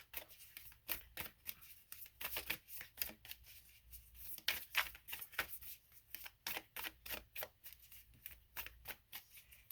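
A tarot deck is shuffled by hand in quick, repeated riffling bursts, close and crisp but quiet, with a steady irregular rhythm of card flicks and no talking.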